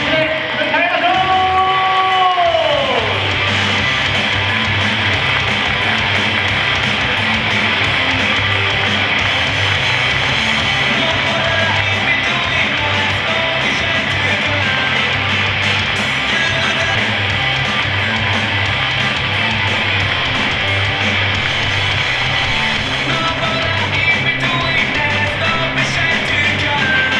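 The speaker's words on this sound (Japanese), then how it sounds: "皆さん、大きな拍手で迎えましょう" An audience at a motorsport fan appreciation event keeps up long, steady applause and cheering as the Qatar team's players and staff enter, while rhythmic music thumps underneath throughout.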